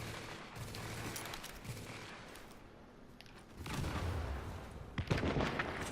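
Gunfire and a grenade blast from a firefight in the Dark Zone of Tom Clancy's The Division beta, with rapid rattling shots, a heavier boom later on and several distant cracks.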